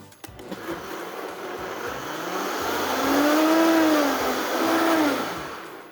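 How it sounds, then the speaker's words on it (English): Kitchen blender whirring through batter made with baking powder and salt, a steady loud motor drone that rises and wavers in pitch as the blades work, heard alone without talk. "Hit blend."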